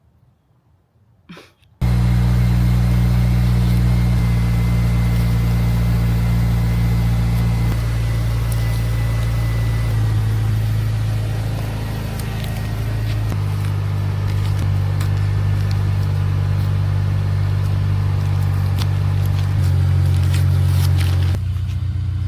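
A low-slung car, just fixed at home with new wrap and alignment, drives steadily on a test run, its engine drone and road rumble loud and continuous after a brief quiet start, with shifting tone as speed changes.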